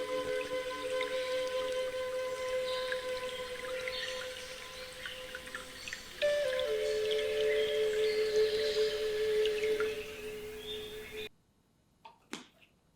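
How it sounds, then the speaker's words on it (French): Soft, sustained pan flute tones hold steady notes over a continuous babbling stream, then fade out to near silence with a few faint trailing sounds. "je laisse une petite musique de flûte de Pan sur son fond de bruit de ruisseau."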